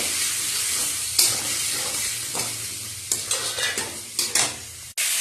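Onion, capsicum and tomato stir-fried in a hot pan for chilli chicken, with a steady sizzle and sharp scrapes of a spatula stirring the vegetables, close and loud with no speech.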